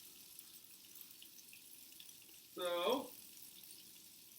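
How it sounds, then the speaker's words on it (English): Water drawn through a Buchner funnel under vacuum suction in a lab filtration setup gives a short gurgling, sputtering slurp of about half a second over a quiet background hiss, with a brief word spoken just before. "we can start to see the water getting sucked through to make sure that we are getting suction"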